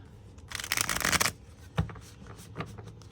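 A quick riffle of tarot cards being shuffled up close, followed by a few soft taps and card handling.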